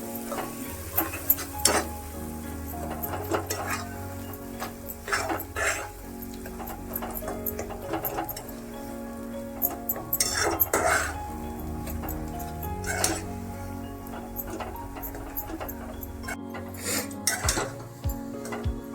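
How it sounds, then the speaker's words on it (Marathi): Roasted ground masala for Maharashtrian katachi amti is stirred in a pan: a spoon scrapes and clinks against the metal in irregular strokes over a low, steady sizzle, close and moderately loud. "तर हे सर्व मिक्स करून हलवायचं आहे।"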